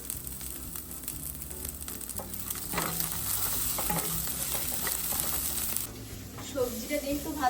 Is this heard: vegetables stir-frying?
yes